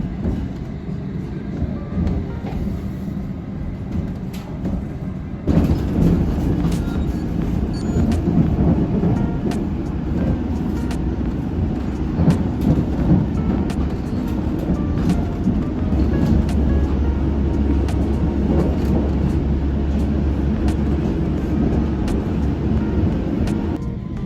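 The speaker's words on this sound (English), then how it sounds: "This is an all-stations Metropolitan line train to Amersham." A London Underground Metropolitan line train runs steadily, a loud continuous rumble and rattle of rolling carriages with a low drone, rising in intensity after a few seconds and holding throughout, with no voices.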